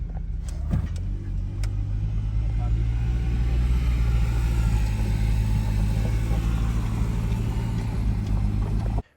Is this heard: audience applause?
no